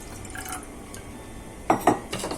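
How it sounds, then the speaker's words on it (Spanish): Water poured into a small pot holding half a cup of sugar to make a syrup, a couple of short splashing pours near the end after quiet kitchen ambience. "Voy a poner media taza de azúcar y le voy a agregar media taza de agua."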